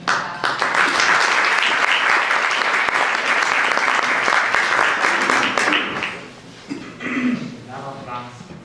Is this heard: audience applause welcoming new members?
yes